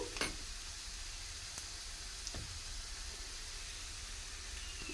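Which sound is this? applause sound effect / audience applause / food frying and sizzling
food frying and sizzling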